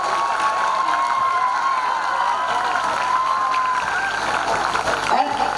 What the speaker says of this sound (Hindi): तो पहले अपने लिए तालियां बजाइए आप अपने लिए